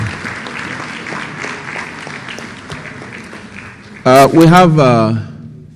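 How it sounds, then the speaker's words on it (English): Another round of applause at an annual lecture ceremony, a steady wash of clapping for about four seconds before a voice takes over loudly near the end. "Please let's give him another round of applause."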